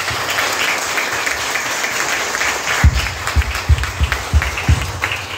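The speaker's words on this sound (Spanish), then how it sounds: "Le damos un fuerte aplauso," Wedding guests applauding the newly married couple in a church ceremony, a sustained crowd of clapping with a few louder, rhythmic claps standing out toward the end.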